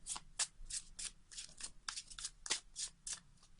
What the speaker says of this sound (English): I need to give it another shuffle